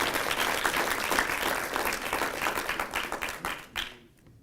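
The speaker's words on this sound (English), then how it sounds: "You can give her a round of applause." Sustained, dense clapping from an audience at an industrial engineering awards ceremony, loud and steady before tapering off and fading to quiet at the end.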